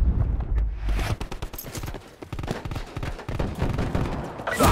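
Frag grenade throw and gunfire in the Black Ops 4 multiplayer game on the Summit map: a dense run of sharp, loud staccato bursts and impacts across the clip, ending in a heavier swell.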